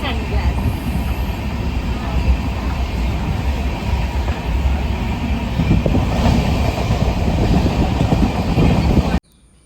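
A passenger train running on rails heard from inside a carriage, a loud continuous rumble with rattling and a clatter that swells slightly midway, background voices faint beneath it.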